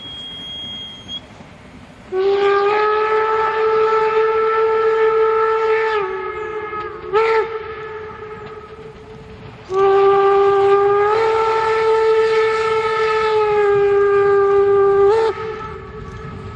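A narrow-gauge steam train bound for Wernigerode near Benneckenstein sounds its whistle in two long, loud, harmonic blasts of about four and six seconds. Each blast ends in a short chirp, and the train rumbles faintly underneath.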